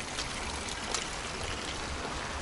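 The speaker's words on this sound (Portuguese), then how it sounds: "Está engraçado aqui, água a descer por estas colinas." Rainwater runs down a hillside near Braga as a steady trickling, streaming wash, moderately loud and continuous throughout.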